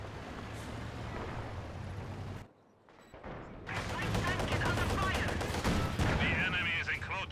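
Sustained MG-34 machine gun fire and battle noise in Company of Heroes 2, forming a dense, continuous roar of rattling shots that drops away briefly, then returns louder with rapid bursts.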